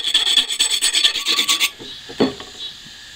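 A steel file scrapes in a quick rhythmic series of strokes across hardened sharpener rods, loud and close, then stops, followed by a single softer scrape and a faint rub.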